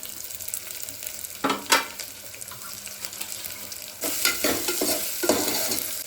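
Beans and carrots fry in a pan, a soft steady sizzle broken by several sharp scraping stirs of a spoon, with louder bursts of stirring toward the end.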